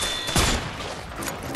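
A burst of rapid rifle fire with a heavy thump in the video game A Way Out, followed by continuing noisy clatter and shots at steady loudness.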